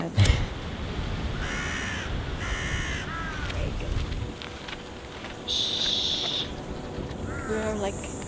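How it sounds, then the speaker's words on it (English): Several loud, harsh crow caws come in short bursts, some in quick pairs, over an outdoor background with a faint insect drone, in a park in the Komodo Islands. "Did you hear the crows as we were coming into the park?"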